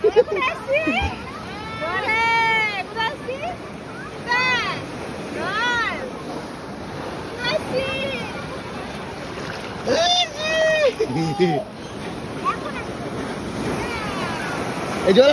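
Sea waves washing onto the beach at Digha, India, with a steady wash of surf and wind buffeting the microphone, while a voice talks and calls out repeatedly over it.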